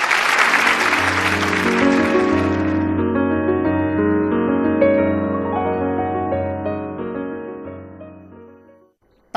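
Audience applause in a hall at a Suzhou Pingtan storytelling performance in 2017, as performers are welcomed onstage; loud, sustained clapping that overlaps plucked instrumental music and fades out over several seconds.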